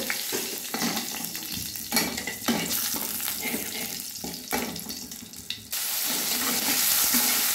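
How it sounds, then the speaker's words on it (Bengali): Bay leaf, two dried red chilies and half a spoon of cumin fry in hot mustard oil, a steady close sizzle with stirring scrapes, swelling louder and brighter near the end; no talking. "এবার 1 তেজপাতা, 2 শুকনো লঙ্কা আর হাফ চামচ জিরে দিয়ে দিলাম। এবার ফোড়নটা ভালোভাবে ভেজে নেব।"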